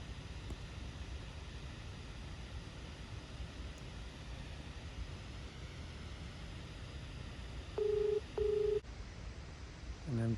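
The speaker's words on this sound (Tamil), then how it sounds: "ஓகே கைஸ், அவருக்கு ஃபோன் பண்ணுவோம்." A phone call is placed: faint steady hiss of an open line, then two short ringback tones near the end, followed by a quick chime, with no talking over them.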